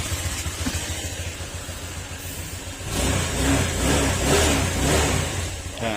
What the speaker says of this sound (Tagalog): yung ingay ng makina ito smooth na smooth na